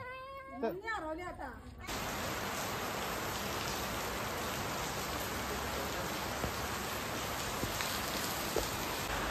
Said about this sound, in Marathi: रात्रीचं 1:15 झालाय आणि पाऊस आलाय जोराने बघा